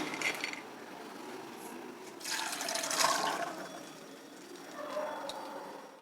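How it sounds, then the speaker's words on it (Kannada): Water from overnight-soaked legumes drains through a kitchen strainer, a soft trickling and splashing that swells and fades in faint waves with no talk over it. "ಈಗ ಓವರ್ ನೈಟ್ ನೆಂದಿರೋ ಕಾಳುಗಳನ್ನೆಲ್ಲ ಸೋರಿಸ್ತೀನಿ ಒಂದು ಫಿಲ್ಟರಲ್ಲಿ ಈ ರೀತಿ ನೀರನ್ನೆಲ್ಲ ತೆಗೆದುಬಿಡಬೇಕು"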